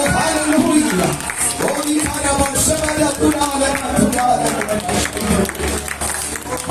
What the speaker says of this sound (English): Let us clap our hands and praise our God.